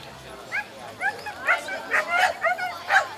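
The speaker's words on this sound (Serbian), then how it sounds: "Biramo tri rasna psa." Purebred dogs at a children-and-dog show give a run of short barks and yips, about eight evenly spaced, close and clear over a quiet outdoor background.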